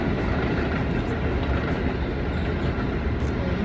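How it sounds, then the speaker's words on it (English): A train passing close by, a continuous loud rumble of wheels and wagons that fills the whole stretch without letting up. "Oh my god! Fucking train, sorry."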